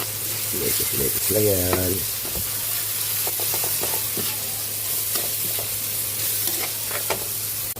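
Ground pork drops into a hot pan with tomatoes and starts to sizzle and fry, a steady hiss and crackle running throughout while someone speaks briefly over it.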